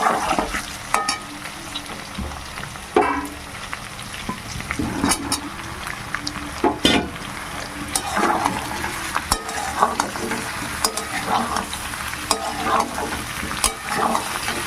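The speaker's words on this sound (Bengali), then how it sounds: "কুমড়োগুলো খুব সুন্দর ভাজা হয়ে গেছে দেখুন এবার আমি বেগুনগুলো দিয়ে দেবো" Eggplant fries in a pan with pumpkin pieces, giving a steady close sizzle broken by repeated scraping and stirring knocks from a utensil, with no voices.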